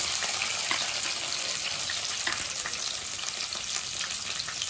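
Chopped onions and green chillies fry for a stuffed brinjal curry in a dense, continuous crackling sizzle that stays loud and close throughout, with faint stirring ticks and no voices.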